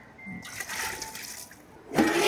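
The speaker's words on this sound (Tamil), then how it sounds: "தண்ணி நிறையா ஊற்றணும்." Water poured into a cooking pot of mutton curry with green chillies, a steady splashing pour that swells near the end, with no talk over it.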